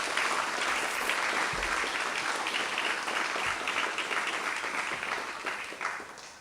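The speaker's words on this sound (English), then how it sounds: "another round of applause" A large audience applauds steadily after a professor's lecture, dense clapping holding for several seconds before tapering slightly at the end.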